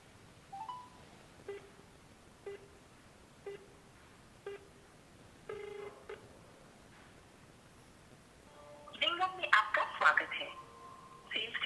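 A phone call to the SIM port of an IVR device: a run of short, evenly spaced dialing tones and ring pulses, then a louder burst of tones and a welcome tune near the end, fairly faint overall.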